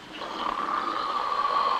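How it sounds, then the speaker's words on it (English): A man snoring in a 1950 Western film scene, one long, steady, rasping snore heard close and alone for about two seconds. "Which one of them red eyes is snoring?"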